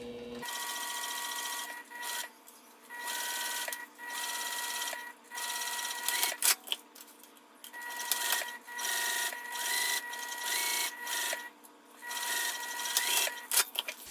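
A sewing machine stitches slick TPU fabric with a steady, fast mechanical whirring chatter, running in bursts with short pauses between, close up and alone.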